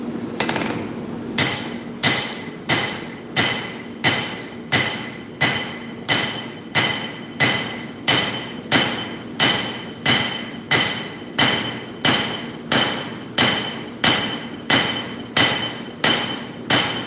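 A hammer forging a nakiri blade on an anvil, sharp ringing metallic strikes landing in a steady, even rhythm roughly once per second, loud and close, with no talking.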